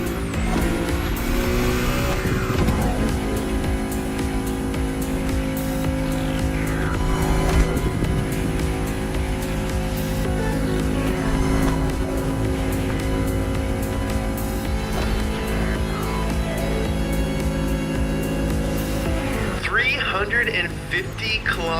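Race car tearing through a downtown street at high speed in The Crew Motorfest, engine roaring continuously with rising and falling revs and shifting pitch, loud throughout beneath a talking voice.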